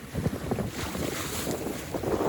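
A trailer sailer under way at sea at night sails upwind, with steady rushing wind buffeting the microphone and water washing along the hull, continuous and fairly loud.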